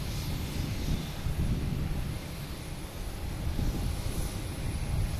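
An Embraer Phenom 300 business jet coming in at Boston Logan Airport, a steady rushing engine roar with low rumble, continuous and fairly close.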